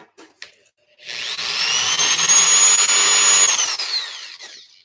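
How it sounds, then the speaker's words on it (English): A power tool whirs up after a few brief knocks, running loud and steady for several seconds before winding down. "I don't like using power tools. They're so scary."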